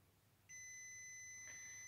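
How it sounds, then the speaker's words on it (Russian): A WinAPEX touch-sensing multimeter sounds its continuity beeper on a low-resistance reading, giving a single steady, piercing electronic tone that starts abruptly and holds to the end against a faint background hum. "говорит, сопротивление маленькое, пищалка срабатывает."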